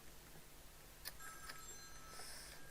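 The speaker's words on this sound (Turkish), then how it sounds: "Telefon çaldı işte" A telephone rings faintly in a Minecraft Survival Games match, a thin, high electronic tone that repeats for about a second and a half against a quiet background.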